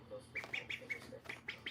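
A pet duck gives a quick series of short, nasal quacks and squawks, fairly close and moderately loud, with brief pauses between calls and no talking.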